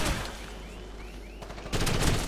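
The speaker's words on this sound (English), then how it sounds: "now they're just shooting at nothing" Squad AI gunfire in the video game GRAW, a steady mid-level crackle of shots that grows denser and louder toward the end, with no talking.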